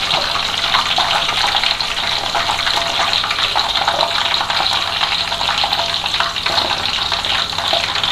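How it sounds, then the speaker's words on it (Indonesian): Banana chips frying in hot oil, a steady, dense sizzling hiss that runs unbroken and loud throughout. "makanya langsung dimasukin ke minyak panas"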